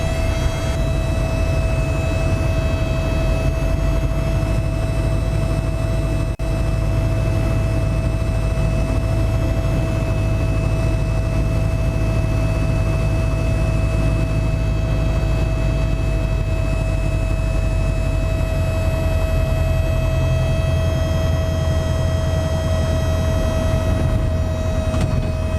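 Piper Super Cub light airplane engine during a touch-and-go landing: a loud, continuous droning hum with steady whining tones that runs unbroken for the whole stretch, close and dominant.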